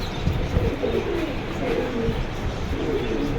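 White Lab pigeons coo repeatedly in soft, low, throaty phrases, close by, over a background of rustling and other bird chirps.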